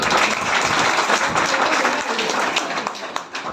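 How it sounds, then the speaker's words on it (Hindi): A crowd applauds at a Rajasthan Swarnkar community society executive meeting with steady, dense clapping that holds loud and then thins slightly toward the end. "उनके लिए एक बार और ताली"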